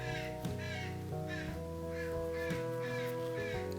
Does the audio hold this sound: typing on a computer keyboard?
no